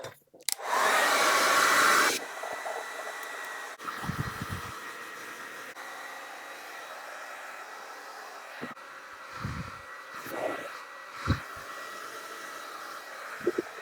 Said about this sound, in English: I'm just going to blow dry my hair.